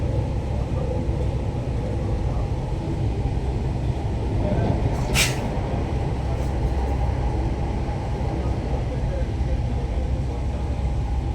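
Metro train rumbling past, a steady low heavy roar of wheels on rails close by, with a brief high squeal partway through.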